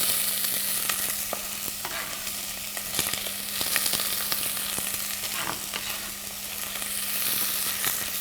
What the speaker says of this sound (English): Then I'll add the onions on my hot oil.